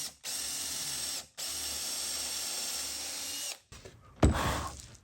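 A power drill whirs steadily in two long bursts pre-drilling wood with a 1/4-inch bit, then stops; a short sharper grinding follows near the end, close and loud.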